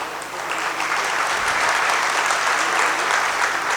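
Audience applause at a Hindi comedy poetry stage show, a dense steady wash of clapping from a large crowd that builds slightly and holds loud throughout, with no speech over it.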